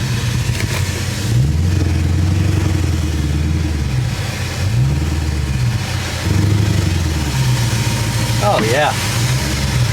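A Crown Victoria LTD with a 351 Windsor V8 and five-speed revs up and down repeatedly, its deep engine note rising and falling in several swells close by, with a person talking over it.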